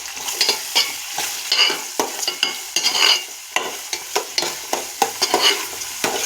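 Brinjal fries with dried shrimp and salt in a pan, a loud close sizzle broken by rapid, rhythmic spatula scrapes and tosses throughout, with no talking.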